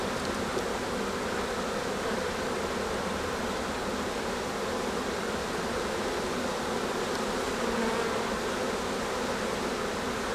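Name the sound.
honeybees buzzing at an opened hive during inspection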